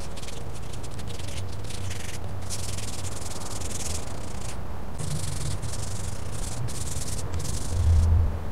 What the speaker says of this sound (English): Come back when I've sanded most of these